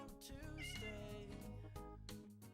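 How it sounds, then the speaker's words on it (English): A cat meows near the microphone in a continuous, drawn-out vocal call that fills the stretch, with Minecraft game sounds playing quietly behind it. "You hush, cat."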